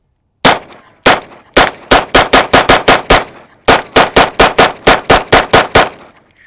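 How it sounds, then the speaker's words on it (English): A Kimber 2K11 Pro Comp pistol fires about eighteen loud, sharp shots at an outdoor range, first a few spaced rounds and then rapid strings of fire, each crack ringing briefly with no talking between. "first rounds, here we go. 10 yards out. Let's see how this thing shoots."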